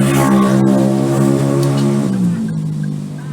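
An angkot minibus passes close by on a street, its engine a loud, steady harmonic drone whose pitch drops partway through as it moves away, with no talking.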